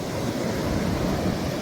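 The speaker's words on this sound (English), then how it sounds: "The waves are definitely much bigger, more frequent waves as well." Ocean waves crashing on Great Bay Treasure Beach, Jamaica, as a hurricane approaches: a steady, dense roar of surf with wind, heard alone without voices.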